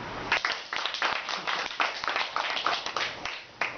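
A small group claps at a self-help members' meeting, uneven hand claps with distinct individual strikes, fairly close and lively, rising and dipping over a few seconds.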